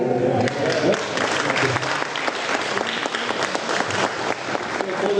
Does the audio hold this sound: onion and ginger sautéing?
no